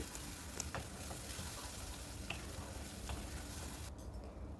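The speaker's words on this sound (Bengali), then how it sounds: "এবার এটাকে একটু ভেজে নেব যতক্ষণ না তেল ছাড়ছে" Ground elephant foot yam paste frying in oil over a medium gas flame, making a dense, continuous sizzle with occasional stirring scrapes. The sound is low in level and close, and it cuts off abruptly near the end.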